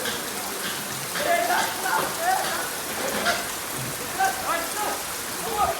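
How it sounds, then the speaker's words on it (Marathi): Heavy rain pours steadily on surfaces at a farmhouse, a dense continuous patter heard close, while people talk over it intermittently. "पाऊस बेकार लागला आमच्याकडे पाऊस जाम बेकार हे बघा पाऊस बघा"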